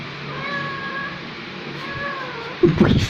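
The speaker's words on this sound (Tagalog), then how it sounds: "Okay na sana, kaso may nag-react pa na pusa." A house cat meows twice in drawn-out, wavering cries during an indoor family video shoot, followed by a burst of louder rustling noise near the end.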